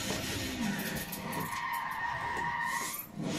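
A car skids through a handbrake turn in first gear, its tires hissing and squealing steadily across the whole stretch, loud and close, with a brief dip near the end.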